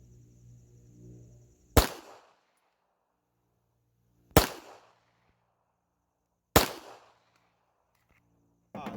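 Three sharp, loud pistol shots from a Sig P365 XL fired at steel targets outdoors, spaced a couple of seconds apart, each followed by a brief ringing decay, with a fourth report starting at the very end.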